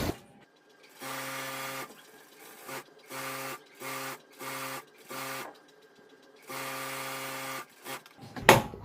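A sewing machine stitches a bra strap in a quiet room, running in a series of short whirring bursts with brief pauses between them and a longer run near the start and end.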